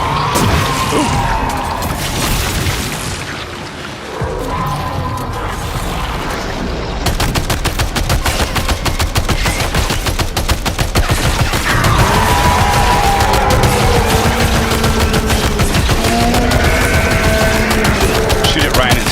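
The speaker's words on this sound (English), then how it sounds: "see what the machine gun's like, shall we?" Machine gun firing in the video game Death Stranding 2, long rapid bursts of loud gunfire, nearly continuous after a brief opening stretch with a short pause.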